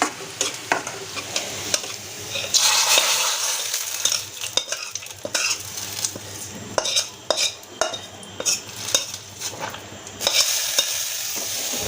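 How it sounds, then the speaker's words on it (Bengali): Dal being tempered with spices sizzling in hot oil, a close, loud crackling sizzle broken by frequent scrapes and clanks of a ladle stirring in the pot, the sizzle swelling and fading over about twelve seconds. "বাগার দেওয়া হয়ে গেল ডাল।"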